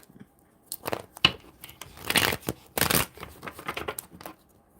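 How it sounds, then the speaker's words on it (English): Several bursts of tarot cards being shuffled, crisp riffling and flapping sounds close by, separated by brief pauses, with no talking. "I'm going to shuffle some more."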